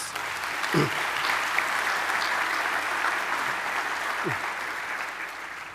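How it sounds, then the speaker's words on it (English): Graduates at a university graduation ceremony applaud in a large hall, a broad, steady wash of clapping from a big crowd that holds evenly throughout, with a couple of low thumps. "Please give yourselves a massive round of applause."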